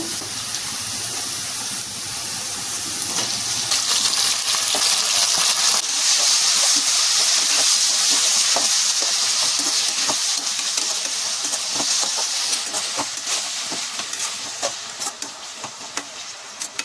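A loud, continuous sizzle of prawns frying in a hot pan for Andhra-style prawn fry, with occasional scraping and clinks as they are stirred.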